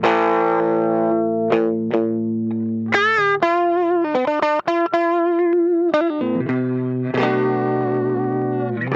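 An electric guitar through a distortion pedal with compression plays a steady run of sustained notes and bends, smooth and even in loudness throughout.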